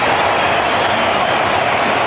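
A cricket crowd roaring and applauding after a wicket at a 1993 New Zealand versus Australia one-day international, a dense, steady wash of cheering and clapping throughout.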